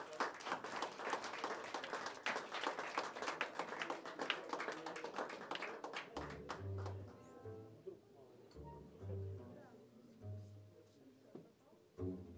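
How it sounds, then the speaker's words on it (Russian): Applause from a jazz club audience during a jam session, a dense patter of claps for about six seconds that then thins out and stops, followed by quieter room sounds with low murmuring and a few taps. "И, пожалуйста, приветствуйте специальными, самыми тихими аплодисментами Михаила Васильевича Оптина."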